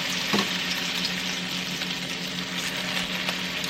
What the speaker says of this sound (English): I think I'm going to put this in here and then just pour the rest of this egg over the top of these two.